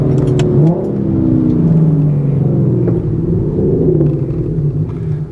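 An Audi car engine revs loudly and close by, with a deep, rumbling drone that rises and falls over several seconds.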